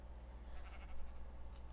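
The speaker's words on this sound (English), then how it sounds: "Slowly sneaking my way towards this pink sheep." A pink sheep in Minecraft gives a short, faint bleat in the game, set against a low background hum with no talk.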